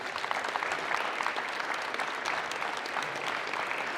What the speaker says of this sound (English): Everybody give these guys a big round of applause